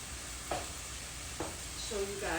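Onions and tomatoes frying in a pan used for shrimp, a steady low sizzle with a couple of brief spatula scrapes and faint background tones.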